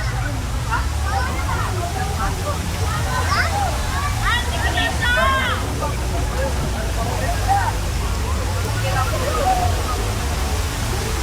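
Balite Falls in Amadeo, Cavite pours in a steady, broad rush of falling water that fills the whole scene, with a few distant voices and birdlike chirps faintly over the constant roar.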